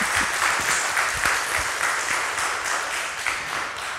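Lively audience applause welcoming a speaker at the MRMCD 2023 conference talk, with many hands clapping in a dense, fluttering wash, some individual claps standing out close by, and the applause easing slightly near the end.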